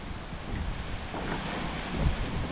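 Heavy rain and gusting wind during Typhoon Wipha in Hong Kong make a steady, dense roar with wind buffeting the microphone, continuous and loud throughout, without any voices.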